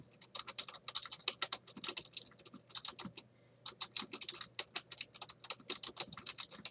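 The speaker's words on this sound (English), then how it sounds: "as I'm typing them in" Rapid typing on a computer keyboard, close and clear, in dense bursts of key clicks broken by a short pause near the middle, with no voices.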